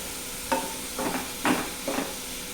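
Onions and green chilli sizzling in a pan, stirred in four quick scraping bursts about half a second apart, soft and close with no talking.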